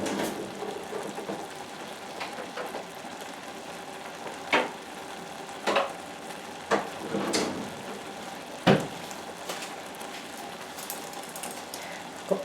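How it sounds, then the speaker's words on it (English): Basmati rice simmering on low heat is stirred in a pot with a large fork, giving a bubbling, sizzling hiss broken by several distinct scrapes and knocks against the pot. "I will give it a little stir. Let me just get my fork."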